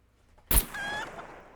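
A chicken in the survival game SCUM gives a short, sharp squawk followed by a brief clucking call, close by, after a moment of near silence.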